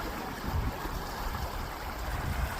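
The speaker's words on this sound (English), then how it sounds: "Some little rapids up there" Water rushing through small river rapids: a steady, broad roar of churning flow, close and continuous, with no voices.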